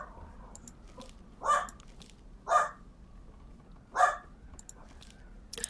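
Dog barking in the video game Tell Me Why: three separate loud barks spaced about a second apart, set against a quiet, low game-ambience hum.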